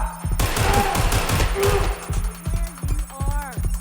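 Watch Dogs Legion gameplay with rapid, loud bursts of in-game gunfire, dense at first and then scattered shots, mixed with voices talking over the action.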